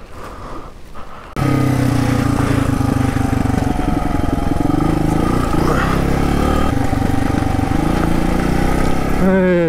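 Suzuki DR200 motorcycle riding near Mt Buangor State Park, its engine kicking in loudly after a quieter start and holding a steady buzzing drone up close, with wind rush throughout.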